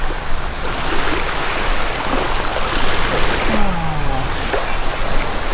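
Adriatic Sea waves wash steadily onto the shore at Rimini, Italy, a continuous broad surf rush with no voices.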